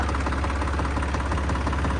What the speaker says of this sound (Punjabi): ਭਾਜੀ 3 ਸਿਲੰਡਰ ਇੰਜਨ ਹੈ